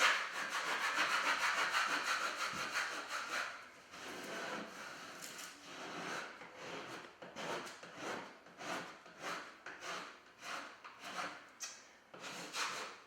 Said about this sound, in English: I take the white plastic burnishing tool and I rub over the entire decal, making sure I've hit every letter.